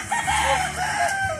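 A gamefowl rooster crows once at a farm, loud and close. The full, drawn-out call fills about a second and a half.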